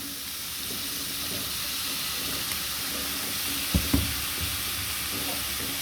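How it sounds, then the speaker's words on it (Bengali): Vegetables stir-frying with green chilli and soy sauce in a hot pan, a steady even sizzle with a couple of soft knocks from the stirring utensil near the end, no voices. "ভালো করে এটাকে ভাজবো,"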